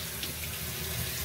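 Steady running water from a tap rinsing out a K&N cotton air filter from a Mercedes SL550 during cleaning, a continuous close hiss and splash throughout with no talking.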